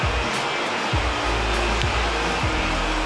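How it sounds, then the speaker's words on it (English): A 2018 Mustang GT V8 with a Steeda X-pipe and resonator delete runs loud and close, a steady rumbling exhaust broken by a few periodic low thumps, with no talking. "her first startup with the new Steeda X-Pipe"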